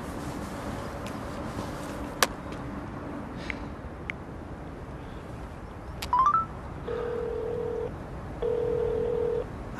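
A telephone call that goes unanswered: faint background, a few sharp clicks, a quick run of dialing tones, then repeated steady ringback tones in separate bursts.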